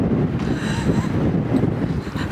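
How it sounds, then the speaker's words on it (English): Strong, cold wind at Diablo Lake Overlook in North Cascades National Park, buffeting the microphone in a continuous loud low roar with no speech. "The wind is brutal right now."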